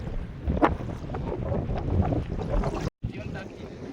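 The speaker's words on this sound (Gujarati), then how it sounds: "પવન નીકળ્યો જ આજે" Wind gusts buffet the microphone over the sea on a fishing trip, with rushing water and a voice talking faintly underneath.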